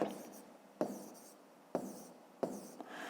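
Numbers are written by hand for a fifth-grade maths exercise, with a few distinct pen taps and strokes followed by quieter scratching, close and faint, with no speech over it.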